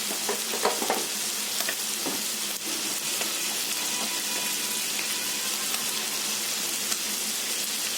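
Boti curry sizzles steadily in a pan as it is stirred and salted, a dense continuous frying hiss with occasional scraping of the spoon, close and loud throughout.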